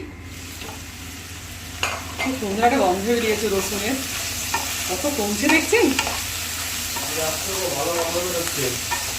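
Broccoli and onion stalks frying in a pan with garlic, a continuous loud sizzle with stirring scrapes, while someone talks over it for most of the stretch.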